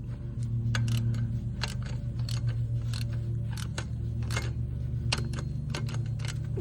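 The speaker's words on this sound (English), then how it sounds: "Other side, I did switch to 1/4 inch drive ratchet." A 1/4 inch drive ratchet clicks rapidly as it loosens tensioner bolts on a 2015-2018 Nissan Murano during alternator replacement, steady close ratcheting bursts over a low engine-bay hum.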